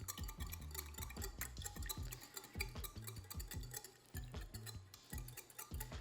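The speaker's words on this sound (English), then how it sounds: "We're gonna whisk this up." A whisk beats a ginger sauce mixture in a bowl, with rapid, steady rhythmic clicking and tapping close by and no talk.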